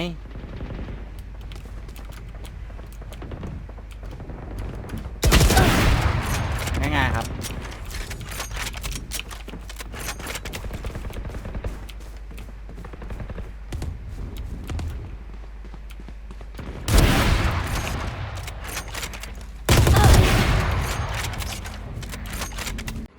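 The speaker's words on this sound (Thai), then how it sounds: "นี่เป็นการยิงหัวนัดสุดท้ายของผม ผมขอปืนแล้วกัน" Sniper gunshots in a shooting video game ring out in three loud, sharp bursts over a steady background of game noise, with quieter stretches between them.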